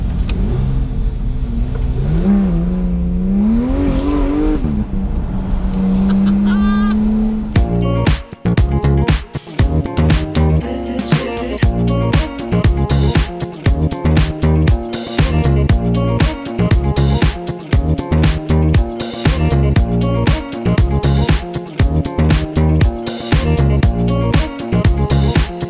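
A Porsche GT3 engine climbs tight first-gear hairpins on an Alps mountain road, first rising through a smooth rev, then shifting into loud, sharp bursts of revving, crackles and chopped throttle blips that continue up close, with no voices.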